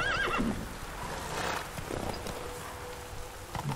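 A horse in The Witcher 3: Wild Hunt whinnies loudly at the start, followed by hoof clip-clops and soft ambient game noise.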